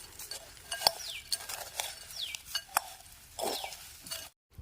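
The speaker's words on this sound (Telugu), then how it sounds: "ఇప్పుడు అన్నిటిని కలిపేసుకుందాం." Snack mixture being stirred together with crispy boondi and chili powder, giving soft, quiet scraping and stirring with light clinks of a utensil against a dish.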